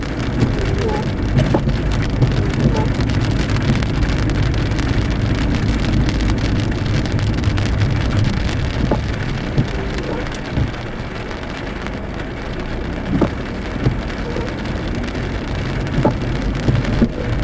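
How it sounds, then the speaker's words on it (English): Steady heavy rain pouring over the town of Douglasville, a dense continuous hiss and patter on surfaces with occasional louder drips and low rumbles, close and loud throughout without a break. "Douglasville in the rain."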